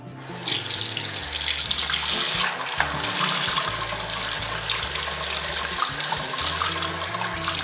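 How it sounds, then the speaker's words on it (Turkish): A synthetic shaving brush is rinsed under a tap, with steady running water splashing close by for several seconds and a brief louder gush near the start. "Fırçamı hemen suda geçirdim. Sudan geçirdim ve tertemiz oldu."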